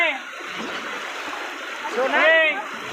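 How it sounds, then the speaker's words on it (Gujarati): Rushing water gushes steadily in the background while people talk and call out over it. "કેટલું ફાસ્ટ પાણી આવે છે"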